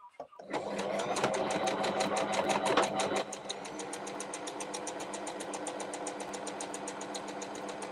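A sewing machine runs steadily, its needle ticking in a fast, even rhythm close by while stitching, after a brief start-up, with someone speaking briefly near the start.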